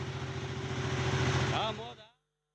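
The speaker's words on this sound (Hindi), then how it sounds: "रेत से भरी ये ट्रैक्टर ट्रॉली जा रही थी" A tractor pulling a trolley loaded with sand drives along, a steady mid-pitched engine drone with a constant hum that fades out toward the end, heard under faint voices.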